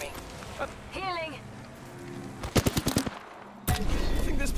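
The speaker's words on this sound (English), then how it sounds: "Opening fire on the enemy." Automatic gunfire in Apex Legends, a quick rattling burst of close shots followed by a denser stretch of firing, with a voice speaking briefly before it.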